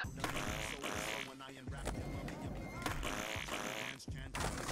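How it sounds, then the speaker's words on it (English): Short fart sound effects in a character-creation video game, a few quick wet blasts played in bursts while people talk over them. "It seems like it's only giving me the two fart noises"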